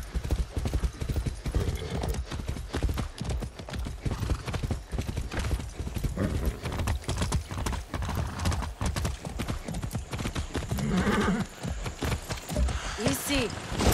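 A horse in the Far Cry 6 video game gallops with steady, rapid clip-clop hoofbeats throughout, close and loud, with a brief whinny near the end.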